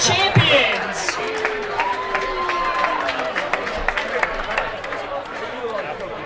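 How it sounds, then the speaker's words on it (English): Crowd applause at a 2014 Star and Hudson Speedway awards banquet honoring the season's champions, steady clapping from a room of attendees with scattered voices and cheers throughout. "All right, I'm going to give a round of applause"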